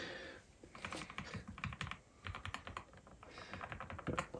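Fingers type on a mechanical switch keyboard in quick, uneven bursts of crisp clicks, fairly quiet and close, with short pauses between runs.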